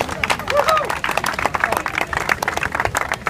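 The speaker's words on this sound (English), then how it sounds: "Let's clap it down." Audience at a park ribbon-cutting ceremony clapping in a steady burst of applause, moderately close, with voices and crowd murmur mixed into the claps.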